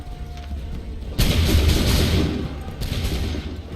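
A volley of musket gunfire in Assassin's Creed III bursts out loud and sudden partway through, then rumbles and echoes, with a second crack a little later.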